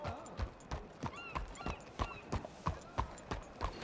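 A horse walks at a steady, even pace in the open country of the Red Dead Redemption 2 video game, its hooves clopping in a regular beat about twice a second, close and clear over faint background ambience.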